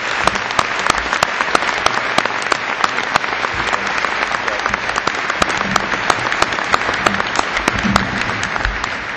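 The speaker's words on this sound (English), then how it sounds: "ask you to clap one more time for Senator Kinley" A crowd claps for Senator Kinley at a property tax reform bill signing, loud sustained applause with sharp individual claps standing out across the whole stretch.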